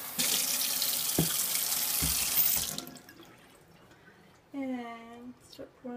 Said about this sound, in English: now I'll fill up another cup